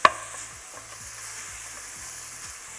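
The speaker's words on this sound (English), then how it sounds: "Nice stir, break it apart a little bit more." Chopped bacon sizzles steadily in a pan while a utensil scrapes and stirs it in repeated strokes, with a brief clink at the start and no talking.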